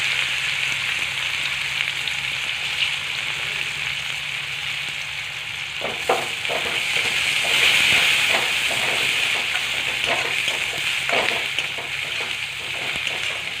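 Nigella seeds and chopped onion sizzle in hot oil in a pan, a steady loud crackling hiss with intermittent bursts and stirring pops growing busier midway.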